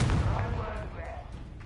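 A single booming blast from the Confringo spell in the video game Hogwarts Legacy hits loud at the start, then rumbles and fades over a second or so.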